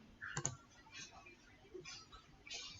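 Ctrl K pressed on a computer keyboard while designing a business card on a computer, heard as a few quiet, sparse clicks and taps, close and faint with no talking.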